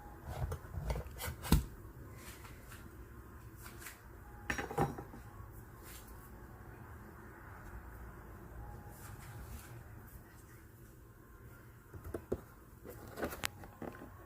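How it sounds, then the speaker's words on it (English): A fork scrapes cooked spaghetti squash flesh into strands, giving soft, intermittent scratchy strokes with a few sharper clicks against the shell, faint and close in a quiet kitchen. "when I scrape it, I can see that it's coming apart to give us that spaghetti look"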